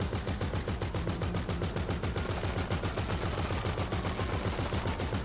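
Rapid automatic gunfire in GTA 5, a dense, continuous stream of loud shots in a steady rhythm, sounding alone without talk.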